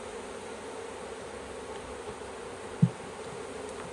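Swarm of honeybees fanning hard after being shaken from a bush into a container, a continuous close buzz with one brief low thump near the end.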